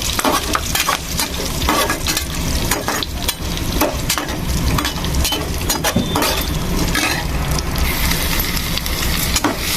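Onion pieces fry and sizzle steadily in a pan for a curry of amaranth greens, with a spatula scraping and stirring through them in frequent short strokes, loud and close throughout.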